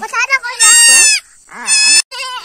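A goat bleats loudly and close by, several wavering cries in quick succession.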